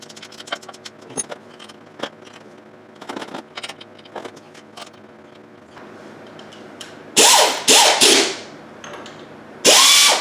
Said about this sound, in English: We'll start putting our bolts back in, bolting everything back together.